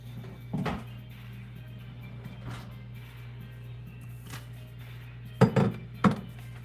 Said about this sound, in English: let me get my glass bowl so y'all can see what's going on